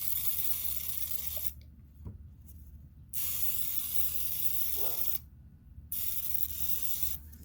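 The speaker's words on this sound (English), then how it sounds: "We have a sprayer here of olive oil. So we'll spray that now." Olive oil hisses from a sprayer onto burger buns in two short, soft bursts separated by quiet, set against a low outdoor background hum.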